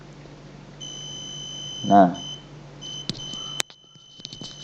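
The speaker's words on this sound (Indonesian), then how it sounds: "Apabila di atas 300 nanti buzzer akan berbunyi." A buzzer alarm on an MQ-2 gas leak detector sounds in short, steady electronic beeps that repeat at a close, moderate level, with a brief spoken word and some handling clicks around them.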